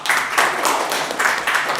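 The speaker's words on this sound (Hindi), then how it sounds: "तालियां।" Short burst of clapping from a small group, uneven and close, rising and falling in a few quick waves.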